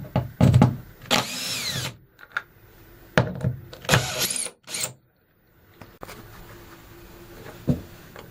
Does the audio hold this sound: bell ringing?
no